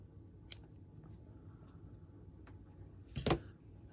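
Small scissors snip slack rigging thread on a Revell 1:96 USS Constitution model ship: a couple of faint ticks, then one sharp, close cut in a quiet room.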